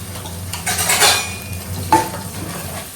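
Ginger garlic paste sautéed in a pan for a home-cooked meat feast: a metal spoon scrapes and clinks against the pan in stirring strokes over a soft, steady sizzle, close and clear.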